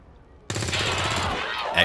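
Automatic gunfire from enemy soldiers in the turn-based strategy game XCOM 2: War of the Chosen, a sudden loud burst that rattles on continuously for over a second before ending abruptly.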